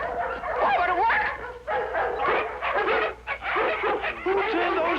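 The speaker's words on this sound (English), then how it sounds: "Why did you let all these dogs loose?" Several dogs bark and yip excitedly in an older Disney television program, a busy overlapping chorus of high yelps and whimpery barks close up that continues without pause.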